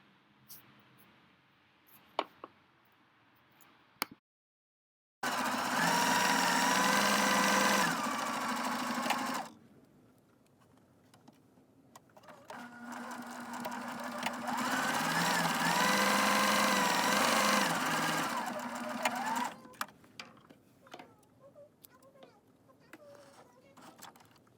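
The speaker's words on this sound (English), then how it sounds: "you're going to sew a straight stitch along the inside edge of the fold" A sewing machine runs a straight stitch along a folded fabric edge for a book cover, with two sustained whirring runs of several seconds each, close and loud, separated by quieter handling clicks.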